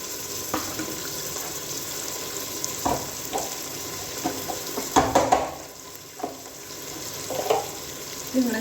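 Tomatoes going into onions fried golden brown, a continuous close frying sizzle punctuated by stirring clanks and scrapes of the spoon against the pan, with no talking.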